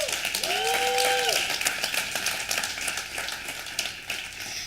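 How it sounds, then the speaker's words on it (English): Gala guests give the finalists of an awards night a round of applause, a moderate wash of clapping under a brief warbling tonal sound and murmured voices, continuing steadily to the end. "Give yourselves another round of applause."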